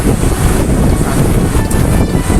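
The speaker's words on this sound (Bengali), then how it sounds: "এই যে পাখা, আর এই যে হাওয়াটা," A strong rush of air blowing right against the microphone, loud and continuous, like a fan pushing wind close by.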